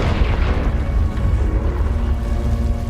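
Confringo spell blasts in the video game Hogwarts Legacy land as dense, booming bursts of fiery explosion with rumbling low-end debris noise, loud and continuous for a few seconds, without any talk.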